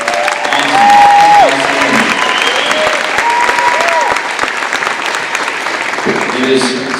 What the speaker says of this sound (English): We hear it for our soloists again, Abby Cosman and Penelope Rock.